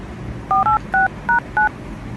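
A telephone number is dialed with five quick touch-tone beeps in steady succession, clear and close over faint background hiss, with no voices.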